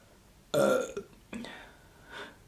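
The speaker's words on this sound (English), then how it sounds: "I felt like I needed to burp again" A loud close burp from a woman eating soup and a sandwich at a meal, one strong belch followed by a smaller second one and a soft trailing breath.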